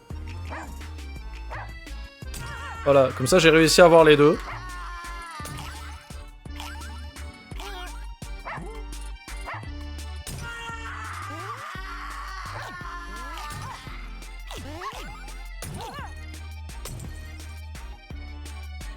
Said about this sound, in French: il y a ces putains de chiens là-bas, eux ils font baisser ma barre de vie